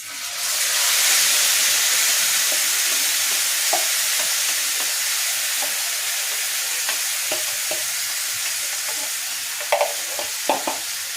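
Loud, continuous sizzling hiss of marinated chicken frying in a hot pan, with a few utensil clicks and scrapes near the end.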